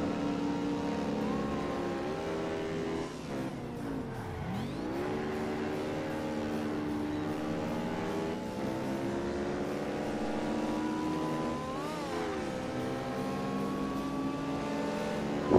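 Engine of a Mini rally car in the racing game Ford Racing 3, a steady, buzzing drone that rises and dips in pitch as the car accelerates and shifts gears, heard close and continuous.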